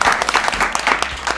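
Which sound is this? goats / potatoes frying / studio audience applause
studio audience applause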